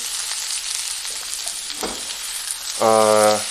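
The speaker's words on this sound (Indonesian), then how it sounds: "sudah mulai stir fry dengan baik" Food stir-fries in a hot pan with a steady, close sizzle throughout, and a brief tonal clatter or scrape rises near the end with no voices.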